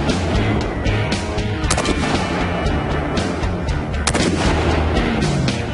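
Gunshots hit the gas tank of a Cadillac at an outdoor shooting range. Two sharp, distinct shots crack over a constant loud background rush.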